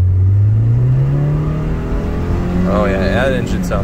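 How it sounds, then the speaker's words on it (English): A car engine revs at half throttle on a test drive, a loud steady drone climbing smoothly in pitch and then holding, with a brief wavering tone near the end. "Okay, so I'm gonna do half throttle."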